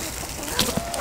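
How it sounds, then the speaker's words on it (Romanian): Hens on a grandmother's farm clucking softly while pecking at beets outdoors, a few short close clucks and scratchy pecks over steady background noise. "Au venit găinușile,"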